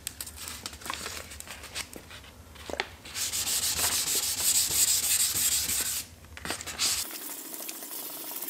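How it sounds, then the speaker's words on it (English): Wet sanding of car primer with 800 grit sandpaper and water during a spray-can repair, a continuous close scratchy rubbing with rhythmic strokes that stops abruptly near the end. "It's ready for sanding with our 800 grit sandpaper."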